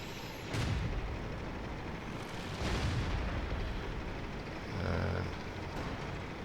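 A20 tank gun in the World of Tanks video game fires in repeated booming shots about two seconds apart, heavy and loud over a steady low rumble of engine and battlefield noise.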